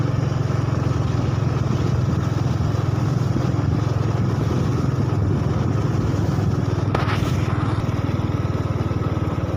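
A motorcycle rides along a slippery countryside road, its engine droning in a steady, constant buzz up close, with a brief rattle or click near the end.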